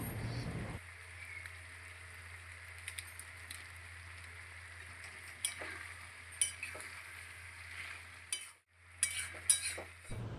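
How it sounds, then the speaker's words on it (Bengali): A spoon stirs banana flower curry sprinkled with garam masala in a pan, producing a soft steady sizzle with faint scraping strokes and occasional light taps, quiet and close. "এবার ঢাকা খুলে গরম মশলার গুঁড়ো ছড়িয়ে দিয়ে ভালোভাবে নাড়াচাড়া করে নেব।"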